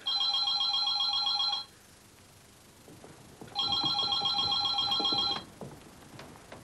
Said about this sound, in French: Vous ne répondez pas au téléphone?